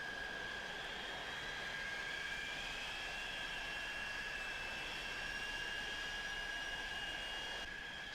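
A 1990s airliner taxiing across the grass at Manchester Airport gives off a steady, distant jet whine that holds unchanged over a low rumbling background for the whole stretch.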